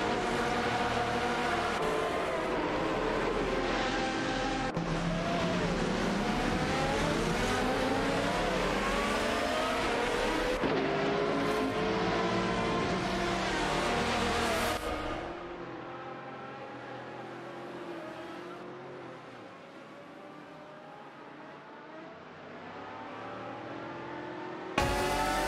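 Race cars in an AI-driven racing video game roar around a circuit, engines rising and falling through gear changes in continuous overlapping sweeps, then fading to a quieter lower drone before swelling again near the end.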